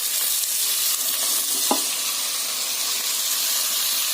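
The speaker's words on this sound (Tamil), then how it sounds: "பாருங்க இப்போ சின்ன வெங்காயம் அதெல்லாம் வதங்கிடுச்சு. இப்போ நம்ம இந்த தேங்காய் சேர்த்துக்கலாம்." Small shallots sautéing with coconut in a pan for a white kuruma, giving a steady close hiss of frying with one brief clatter of a spoon against the pan midway.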